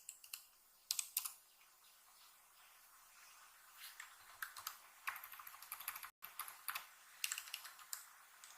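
Code is typed on a computer keyboard in quick bursts of soft, close key clicks, separated by short quiet pauses.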